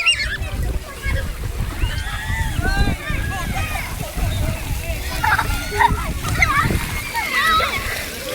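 Water splashes steadily at a fountain in Shiv Waterpark, Hadvad, close by and continuous, with children's voices and adult talk running over it throughout.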